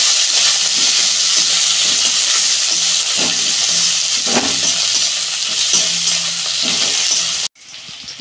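Tomato added to a pan with green chillies and ginger for khichuri, frying in a loud, steady close sizzle with occasional stirring scrapes, cutting off abruptly near the end.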